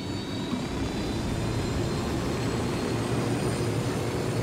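Helicopter in flight in the video game Ghost Recon Wildlands, a constant loud engine and rotor drone with no break, heard alone without talk.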